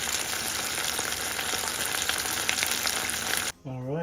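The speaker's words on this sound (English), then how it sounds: "it's frying at 190" Steady, dense sizzle of chicken pieces for Japanese karaage frying in oil at 190 degrees, loud and close, continuing without pause before a brief cutoff and a short voice at the end.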